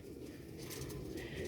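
Soft cooing of a grey Aliwala pigeon kept for sale, a low murmuring coo heard close but faint against quiet background hiss, with no talking.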